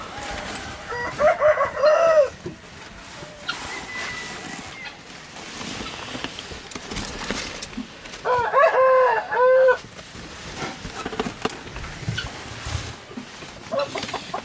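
Chickens in a large flock cluck steadily while a rooster crows twice, one call early and another near the middle, amid busy farmyard noise.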